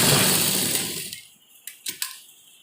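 Sewing machine finishing a double-stitched seam on women's narrow palazzo trousers: a dense whirring run that fades out, followed by a few sharp mechanical clicks and taps, close and with no talking.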